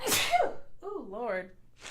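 A single sharp sneeze bursts out near the mic during a live stock market chat, followed by a voice muttering and then another voice speaking.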